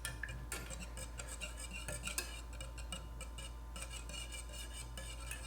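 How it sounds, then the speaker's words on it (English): A utensil stirs a mocha espresso keto ice cream base in a pot, clicking and scraping in a quiet, steady, repeated rhythm up close, with no one speaking. "I guess I'm supposed to keep stirring it though"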